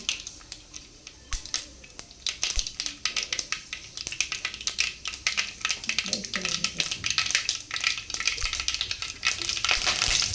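Cumin and mustard seeds splutter and crackle in hot oil while tempering for Davangere-style mandakki usli, with dense, rapid pops and sizzle continuing throughout at close range.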